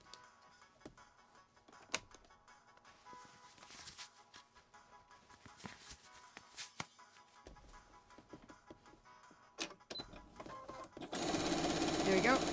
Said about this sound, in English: as soon as I started quilting, it got caught underneath